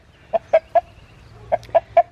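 A rooster clucks six times in two quick bursts of three, close and loud over a quiet background.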